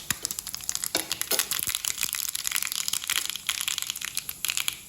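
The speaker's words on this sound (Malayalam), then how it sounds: "കടുക് ഒന്ന് പൊട്ടട്ടെ." Mustard seeds popping in hot coconut oil in a pan, a dense, busy crackle of sharp little pops and sizzle running steadily throughout, close and fairly quiet, with no voices.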